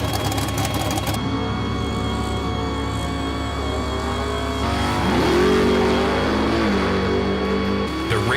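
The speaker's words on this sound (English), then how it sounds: "The cars are unloaded, fired up, and prepped for an intense weekend of racing." A race car engine at a race track drones steadily, then revs up sharply with rising and falling pitch, loud against a constant mechanical hum.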